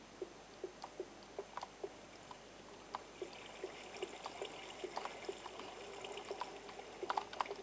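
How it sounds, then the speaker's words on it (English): Water flowing in the Cookie Quest video game: a faint, steady trickling stream with light drips and splashes at irregular intervals that grow busier toward the end, with no talk. "And I hate the sound of water."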